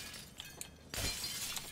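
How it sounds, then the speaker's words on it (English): Window glass smashes in the video game Trouble in Terrorist Town. After a brief quiet lead-in, one sudden loud crash is followed by a bright, sustained shattering tail. "Just smashes a window."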